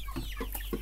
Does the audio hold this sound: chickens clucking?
yes